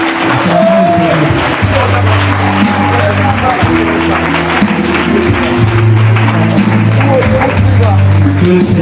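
Congregation in a church applauding and cheering, a dense continuous clapping wash mixed with voices and a low musical hum throughout.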